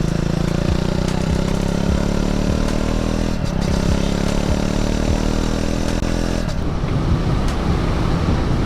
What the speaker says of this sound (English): the exhaust note is sweet